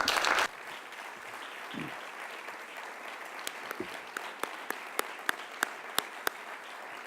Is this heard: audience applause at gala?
yes